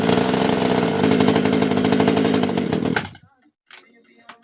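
A petrol chainsaw running on bioethanol roars loudly and close for about three seconds, then cuts out abruptly. A brief faint rattle follows.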